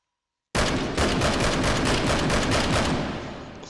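Rapid, loud reports from an SVT-40 semi-automatic rifle in the VR shooter H3VR, fired as a fast, evenly spaced string of rounds at a target, ringing together into a dense burst that fades at the end.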